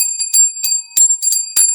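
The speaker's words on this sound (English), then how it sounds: "When the school bell rang" A school bell rings in a short series of bright, metallic strikes, about six distinct dings spaced irregularly across under two seconds, clear and fairly close with no voices.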